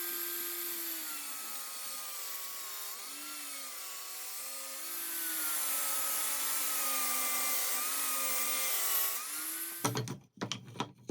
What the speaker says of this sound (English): Here I'm cutting the final strips, but I'm doing it perpendicular to the original strips of wood